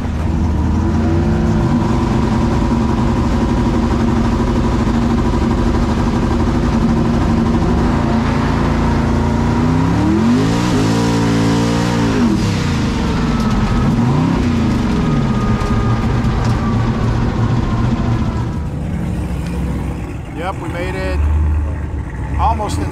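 A 2500hp Camaro street racing revs hard and accelerates with a loud, sustained engine roar whose pitch climbs and falls through gear changes, and people talk over it.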